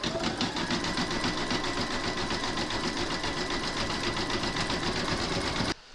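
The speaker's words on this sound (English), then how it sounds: "you're now going to stitch round number 6, and that's going to do the zigzagging around the raw edges" An embroidery sewing machine stitches a zigzag appliqué around raw fabric edges, a fast even needle rattle holding steady and close before cutting off at the end.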